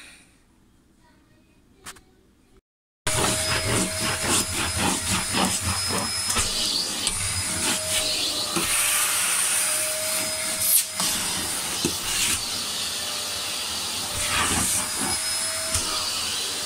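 A vacuum cleaner switches on after a few seconds of near silence and then runs loud and close with a steady hissing whine, its pitch shifting slightly as it moves.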